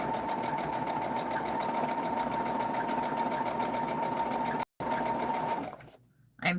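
A sewing machine stitches together quilt block pieces in a steady, continuous run with a constant motor hum, pausing very briefly near the end, then slowing and stopping.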